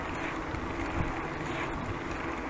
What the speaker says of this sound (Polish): Rusza się wiatr też, bo tam burza się zbliża.